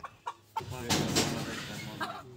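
A rooster crows once, close and fairly loud, after a few short clucks, then a brief cluck follows.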